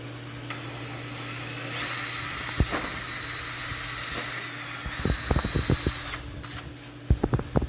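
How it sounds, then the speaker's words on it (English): A power drill whines steadily for several seconds drilling through plastic, then stops, followed by a string of clattering knocks and handling noises close by. "I'm going to drill straight through it again"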